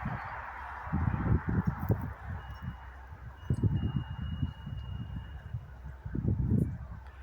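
Several birds outdoors in winter call in short honking bursts, three clusters of low, goose-like cries spread across the stretch over a steady background hiss.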